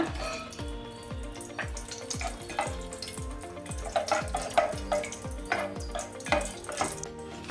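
Whole pulao spices frying in ghee and oil in a pot on a gas stove, a continuous crackling sizzle with fast irregular pops, heard up close without speech.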